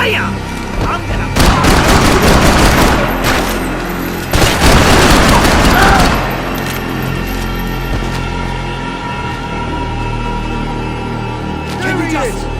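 Gunfire in the Max Payne 3 video game: heavy bursts of shots and booming impacts come in two loud clusters early on, followed by quieter ambient rumble, with characters shouting throughout.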